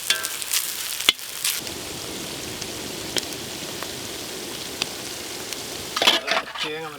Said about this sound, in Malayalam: ഇതിന് മെയിൻ സാധനം നല്ലപോലെ ഒന്ന് വറുത്തെടുക്കുന്ന സാധനം